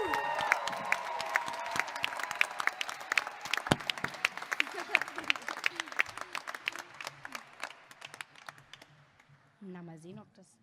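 Applause from an audience at the final of a song contest: dense clapping that starts loud and gradually thins and fades, ending with a brief voice afterward.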